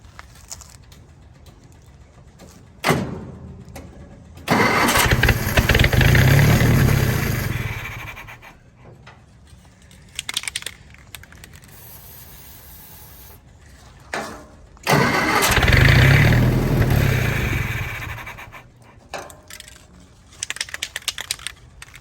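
An old army generator engine cranks in two long bursts, each loud and churning for several seconds, separated by quiet gaps with faint clicks and handling noises, but it never catches and runs.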